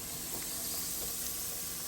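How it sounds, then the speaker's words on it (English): Faint, steady sizzle of plantains frying in hot oil for tostones, a continuous soft hiss with no voices. "We're frying them."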